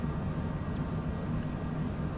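An airplane taxis toward takeoff at Anchorage airport on a cold afternoon, heard from on board as a continuous, fairly loud engine rumble and broadband roar with no voices.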